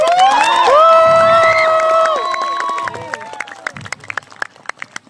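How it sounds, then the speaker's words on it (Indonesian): A festive crowd at a pesantren school event claps and cheers loudly, the noise swelling at first and thinning into scattered claps, with overlapping voices and shouts carrying through. "Tepuk tangan dulu untuk Aibtu"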